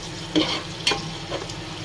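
Onion frying with salt in a pan gives a soft continuous sizzle, broken by a few brief scraping stirs of a spoon, close and fairly quiet with no talking.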